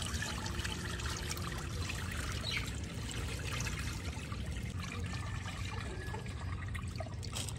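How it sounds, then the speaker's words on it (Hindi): Water trickling and pouring out slowly in a steady, continuous stream, moderately loud and fairly close, with no talk over it. "सारा पानी आहिस्ता आहिस्ता गिरा लो"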